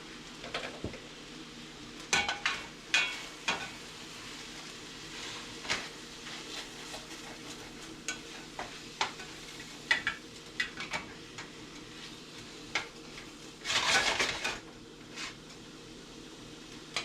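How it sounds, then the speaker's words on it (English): Onions frying with bacon in a pan in a home kitchen, with a soft steady sizzle under frequent clinks and scrapes of a utensil against the pan and a louder burst of sizzling near the end. "We'll add that in with the bacon and let that fry up."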